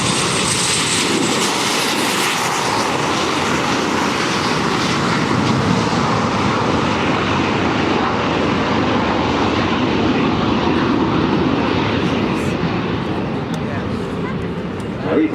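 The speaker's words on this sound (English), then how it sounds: "the Meteor and the Vampire. Starting the takeoff run." Vintage Gloster Meteor and de Havilland Vampire jets starting their takeoff run at the Farnborough Airshow 2014, a loud, steady roaring jet rumble that holds strong throughout and eases slightly near the end, distant and broad.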